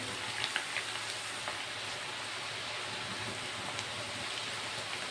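Green chevda ingredients frying in hot oil, giving a steady, fine, rain-like sizzle with faint scattered pops, moderately quiet and close.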